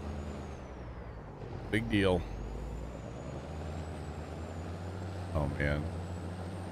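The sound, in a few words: truck engine and air brakes in the video game Farming Simulator 22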